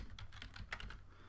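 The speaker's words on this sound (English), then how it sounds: "I'm going to type" Someone types on a computer keyboard, producing a short burst of soft, rapid keystrokes that lasts just over a second.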